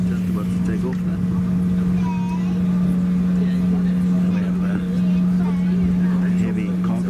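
An SAS CRJ900 regional jet taxies on the ground, heard from inside the economy cabin as a steady, droning engine hum with a constant low tone that holds unbroken from start to finish.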